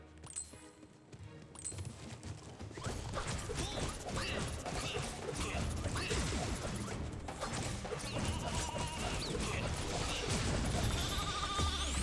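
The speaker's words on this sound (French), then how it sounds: "Tu peux nous envoyer un truc puissant dans la tronche, bah, un mouton." A sheep-bleating spell effect from the video game Skylanders: Swap Force: a loud, continuous mix of bleats, crashes and clattering mechanical effects over game sound, rising after a quieter opening.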